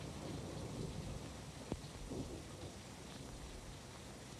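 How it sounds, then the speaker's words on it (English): A thunderstorm pours steady, dense rain with a sharp crack and short rumble of thunder near the middle, the downpour hissing continuously and fairly distant throughout, no voices. "likely to be hit by lightning"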